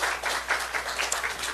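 A church congregation applauding together during a Sunday service, a brief, moderately faint patter of many hands clapping in a steady, even wash.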